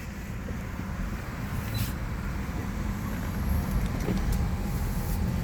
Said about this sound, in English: let's take a little drive